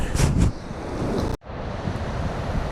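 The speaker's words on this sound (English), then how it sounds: "So the river's pumping, man, but it's clear." Fast, high Truckee River rushing in snowy weather, a steady broadband roar of moving water close by, with a brief dropout partway through and no talk.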